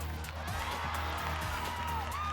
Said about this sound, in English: the crowd obliging, they're going nuts